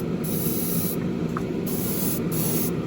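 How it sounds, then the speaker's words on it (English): An airbrush sprays Createx metal flake paint onto an AMT 1967 Impala model kit body, a steady close hiss that cuts in and out in short bursts with brief pauses. "Every time you spray a metal flake, that's another nice thing about the Createx paints."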